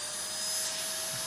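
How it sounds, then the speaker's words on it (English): A vacuum cleaner runs at a steady pitch, a loud, even motor whine with a high hum that holds through the moment, with no voices over it. "No, that's just a vacuum."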